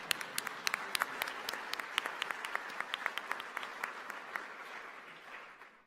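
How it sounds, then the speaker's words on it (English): Scattered applause from a small audience at a fire prevention and control summit, a thinning patter of separate claps that tapers off toward the end, moderately distant. "so let's give them a round of applause."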